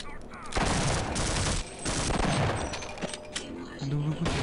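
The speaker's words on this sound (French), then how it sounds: "Un double coup de fusil à pompe à bout portant." In the Half-Life video game, a pump shotgun fires a double blast at point-blank range, bursts of loud gunfire and booms with mechanical clacks in between, close and dominant, alongside a few brief other game sounds.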